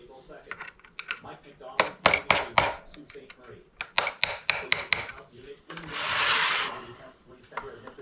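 Sharp taps from a small hammer on parts of a Traxxas X-Maxx RC car during teardown, a quick series of close, light strikes in bursts, followed by a brief rasping scrape and a few more taps.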